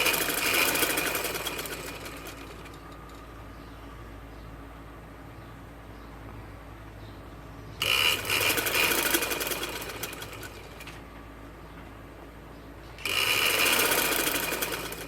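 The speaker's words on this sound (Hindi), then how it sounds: "जैसे ही पट्टी बैठ रही है उसी तरह हम ऐसे सिलाइयाँ लगा देंगे" Sewing machine stitching a ladies' shameez with a steady, close-up whirring hum that swells in two louder bursts before easing back, with no talking.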